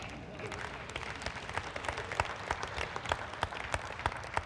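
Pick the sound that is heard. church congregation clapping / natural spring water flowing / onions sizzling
church congregation clapping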